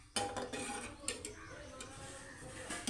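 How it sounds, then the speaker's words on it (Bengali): Cooked dal is stirred in an open pressure cooker, with soft, close metallic scrapes and taps from the spoon against the pot over a thick, continuous wet churning. "দেখো ডালটাকে আমরা ভালো করে নাড়িয়ে চাড়িয়ে নেব।"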